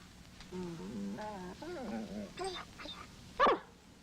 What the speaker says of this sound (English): Pretty dogs.